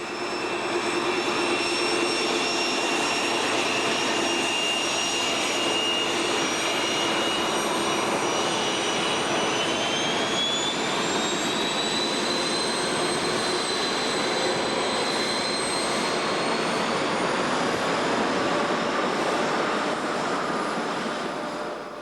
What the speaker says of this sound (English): an IC-125 leaves York, bound for London